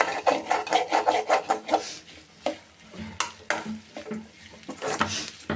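Pounded dried beef scraped and stirred around a pan, giving a series of rapid rough rasping strokes up close, then slower scrapes over a faint sizzle.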